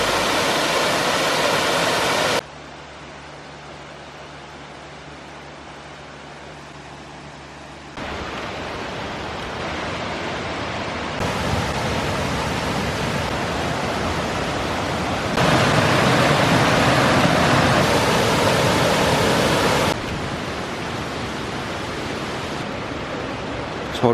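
Broadband rushing water from the waterfalls around a creek at Old Stone Fort, a prehistoric stone structure park, steady and loud throughout, with the level shifting in blocks as the vantage changes.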